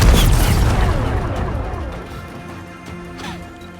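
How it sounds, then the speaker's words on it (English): Rocks blasted apart by an explosion in the video game Horizon Forbidden West, a loud booming crash that decays into rumbling debris, with faint game sound after. "Gotta blast away some rocks, so I can expose the power cell."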